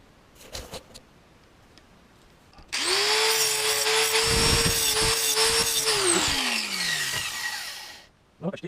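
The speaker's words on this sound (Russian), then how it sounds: "шлифануть." A power sander grinds steadily against a stove part made from a steel gas cylinder, loud and close for about five seconds before winding down, with faint handling knocks before and after.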